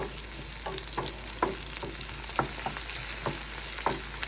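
Onions fry in a pan for a home-cooked Middle Eastern meal, a steady soft sizzle with occasional scrapes and taps of a stirring utensil, close and fairly quiet.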